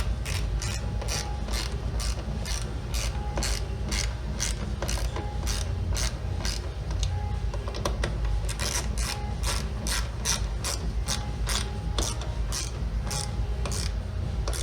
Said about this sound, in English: Go ahead and tighten up the other bolts.